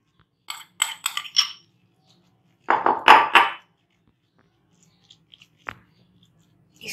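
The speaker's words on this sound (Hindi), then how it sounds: "कीमा हमने इसमें बाउल में निकाल लेना है" Minced beef being scraped and dropped into a bowl, with a few light clinks and soft wet thuds, then a louder burst of scraping and slapping, and a final faint tap.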